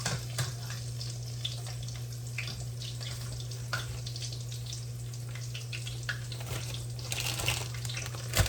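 Fish frying in lard, a steady close hiss and crackle of bubbling fat running evenly throughout with small pops, under a low background hum and no talk.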